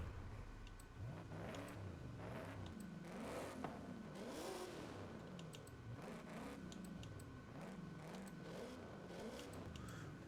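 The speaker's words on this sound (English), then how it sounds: "It sounds more like a modern day Mustang." Forza Horizon 5 car engine with a modern Mustang-like tone, sport ignition fitted, revving up and down in repeated sweeping pulls, steady and fairly clear, with faint clicks alongside.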